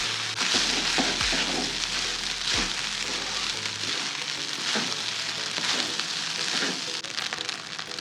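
Rice stir-fried in a hot pan with onion and red chilli gives a steady crackling sizzle, with a few sharp knocks as it is stirred.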